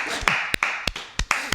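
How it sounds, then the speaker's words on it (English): A few people clapping during a podcast episode, several separate sharp claps in an irregular rhythm, fairly close and moderately loud, with no talking over them. "Everyone clap for Andrew again"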